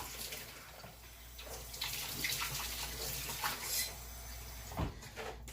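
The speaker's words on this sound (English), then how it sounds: "I'm going to add just a drop of water" Water runs and splashes briefly into a container nearby, with faint clinks and handling noise around it.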